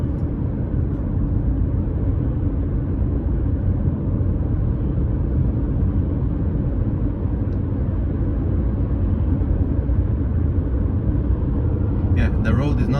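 A 2015 BMW 520d cruising at 80 km/h on an uneven national road, a steady low road and engine rumble held at constant loudness throughout, with a brief rattle near the end.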